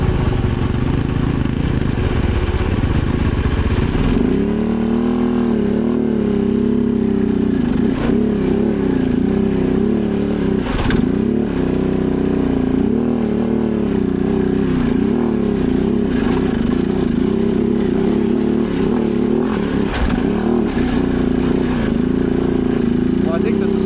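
A 450 dirt bike engine revs hard on a steep muddy climb, a loud sustained drone with repeated surges and dips throughout, while a rider talks over it.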